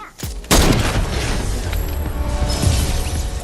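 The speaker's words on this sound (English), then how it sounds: "Our poor friend on the receiving end of this sniper shot learned that lesson rather quickly." A sniper rifle shot in Fortnite Battle Royale: a sudden loud boom cracks out early, followed by a dense, sustained burst of gameplay noise and rumble, with no speech.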